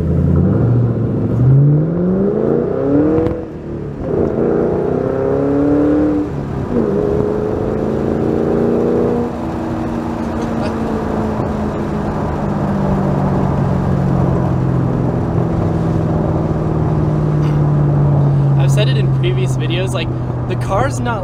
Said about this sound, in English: just the noise that you get from like the stock intake makes tons of sound, and the exhaust